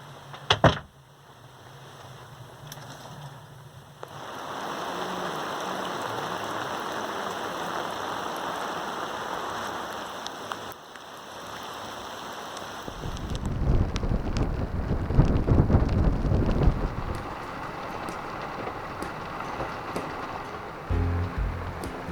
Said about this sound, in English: We'll show you next what the storm looks like.